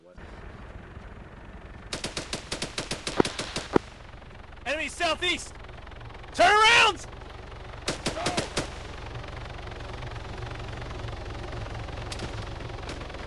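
M4 rifle gunfire in a military video game: quick bursts of fairly distant shots and several separate cracks, while players shout over the fire and a low background hum continues.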